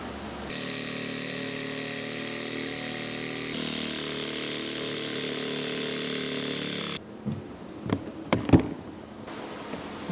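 Body saw cutting through a Subaru VB WRX bumper cover for a brake cooling kit: a loud, steady high-pitched buzzing that runs for about seven seconds, then stops, leaving a few scattered clicks and knocks.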